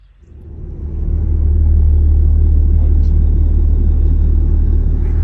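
A Cummins diesel truck rolls along the road, its low engine and road rumble swelling up within the first second and then holding steady and loud from inside the cab.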